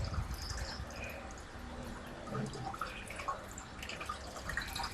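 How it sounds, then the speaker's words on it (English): A garden hose sprays water steadily inside an empty glass aquarium being rinsed after scrubbing, a continuous hiss with splashing and dripping throughout and no talk. "After scrubbing the inside of the entire tank, I'm rinsing it with the garden hose again."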